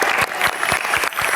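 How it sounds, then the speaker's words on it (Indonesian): Studio audience applauding the doctors on the Indonesian TV game show New Family 100, a steady burst of dense clapping with a few louder surges, filling the short moment without talk. "Tepuk tangan dong buat para dokter kita."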